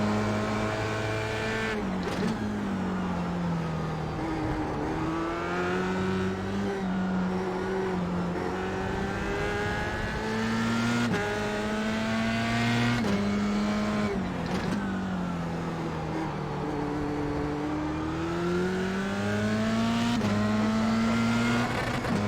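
Formula 3 race car engines at Interlagos in the iRacing sim, a loud continuous high-pitched whine that rises and falls with gear shifts and acceleration, rival cars roaring close alongside.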